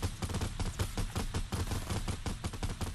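Rapid, continuous automatic gunfire in Fortnite, a dense string of sharp close shots in quick steady rhythm, loud and with no talk over it.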